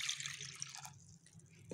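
A cup of water is poured into tamarind pulp for golgappa water, giving a quiet liquid splash and trickle that fades into faint dripping.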